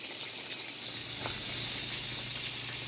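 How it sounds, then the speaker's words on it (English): Mussels and shrimp simmer in a covered pot, giving a steady, dense bubbling hiss with a faint low hum underneath. The sound is close and continuous, with no voices. "I'm going to put the lid back on and let it simmer together"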